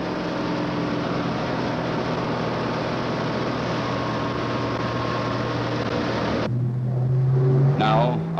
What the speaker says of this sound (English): Now, Art Scholl at full throttle builds up speed.